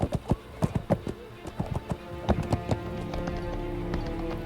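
Horse hooves from Splatterhouse (2010), a run of sharp clip-clop strikes in an uneven rhythm during the first half, then fading into a steady rumbling bed; fairly close and distinct.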